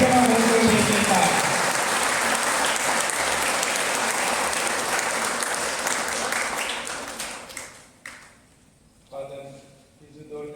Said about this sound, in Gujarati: પ્રભુનો જય જયકાર કરતા આપણે સૌ તાળીઓ પાડીએ.